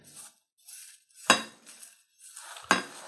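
Cooled bacon is spooned into a loaded baked potato dip, giving soft scraping and stirring with two sharp clinks of a utensil against the bowl, close and quiet, with no talking.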